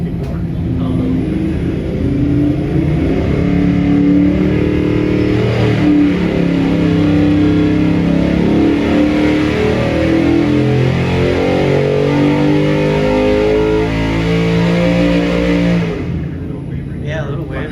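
A 5.3L LS LM7 V8 engine revs hard on a dyno, a loud, close roar climbing steadily in pitch for about fifteen seconds before cutting off abruptly.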